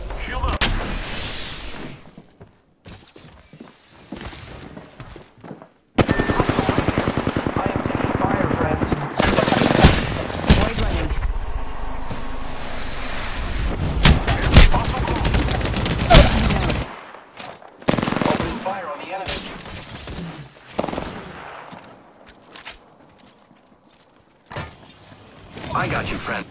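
Heavy gunfire in a shooter video game: dense bursts of automatic fire and explosive blasts fill the middle stretch, with sparser shots before and after, loud and close, while a player talks over parts of it.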